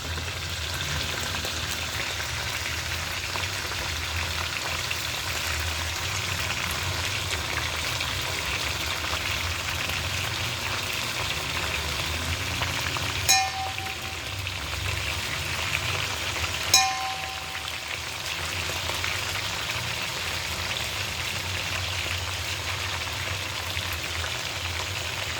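Blended ginger, garlic and onion paste fries in a pan with a steady, dense sizzle and crackle that runs throughout, close and even, broken by two brief clinks of a utensil.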